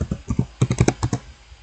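Quick keystrokes on a computer keyboard entering a terminal command, a short burst of close, crisp clicks in an uneven rhythm, heard alone in a quiet room.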